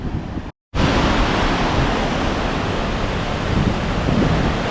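Water rushing steadily through a hydro dam on a warm day, a loud continuous broadband roar after a brief silent gap near the start.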